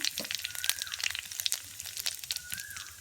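Panch phoron spices and a bay leaf crackle and sizzle in hot oil in a pan, a steady close frying hiss with sharp popping spits throughout.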